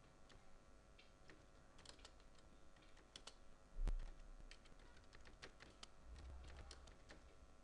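Keystrokes on a computer keyboard while writing content for an HTML page, a quiet, steady run of light clicks with one heavier knock partway through and no voices.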